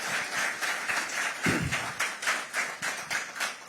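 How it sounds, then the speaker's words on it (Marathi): An audience at the Pudhari Vikas Summit 2024 claps for a speaker, a rhythmic run of crisp claps at a fairly even pace with a few thumps mixed in. "एक टाळ्यांचा कडकडाट भाऊंसाठी झाला पाहिजे."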